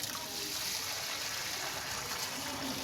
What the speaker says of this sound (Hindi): हमारे चावल रेडी हो गए, अब हम इसका सारा पानी निकाल रहे हैं।